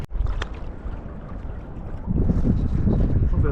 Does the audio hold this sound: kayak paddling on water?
yes